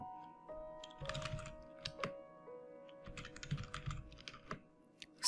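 Typing on a computer keyboard to enter a category name in a WordPress site editor, with bursts of quick key clicks and short pauses, close and fairly quiet over a faint steady hum.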